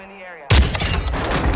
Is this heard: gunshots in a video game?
yes